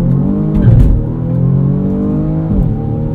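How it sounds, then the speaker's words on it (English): A 2020 BMW M235i xDrive Gran Coupe launches with traction control off, its engine droning loud and steady from inside the cabin, with pitch shifts at the gear changes and no voices. "Chirping the front tires there between shifts."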